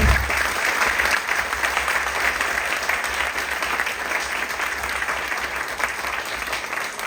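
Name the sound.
audience applause for the campus coordinator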